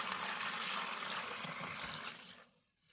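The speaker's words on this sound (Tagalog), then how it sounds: "Lagyan natin ng tubig." Water pours and splashes into a basin for hand-washing laundry in a steady, faint gush that fades out abruptly after about two seconds.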